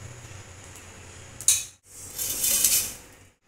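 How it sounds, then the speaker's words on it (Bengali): Roasted cumin and panch phoron spices ground in a kitchen grinder, two bursts of harsh whirring, the first brief and sharp, the second longer and louder before stopping, with no talk. "মশলাটা ভাজা হয়ে গেছে, এখন আমি মশলাটাকে গুঁড়িয়ে নেব।"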